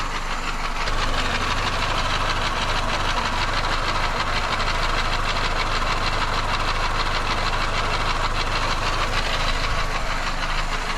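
A Peugeot 205 turbo engine running on 100% ethanol idles close by, a steady, rough, rhythmic low chugging with a dense mechanical clatter that holds unbroken throughout.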